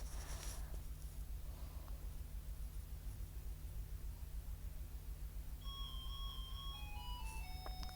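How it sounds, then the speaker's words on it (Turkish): A bright electronic bell chime plays a short jingle of high tones near the end, over a steady low truck engine hum and background noise in a Mercedes-Benz Actros truck simulator game. "Zil çaldı."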